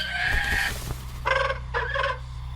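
A bird in The Lord of the Rings: Gollum lets out loud, clucking, rooster-like calls, one drawn-out cry followed by two shorter squawks over a low steady ambient hum.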